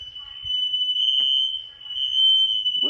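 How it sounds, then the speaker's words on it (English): A household smoke detector sounds a continuous high-pitched electronic alarm tone at steady loudness throughout, with faint knocks and brief low background noise underneath. "I'm surprised his smoke detectors work as much as they be beeping."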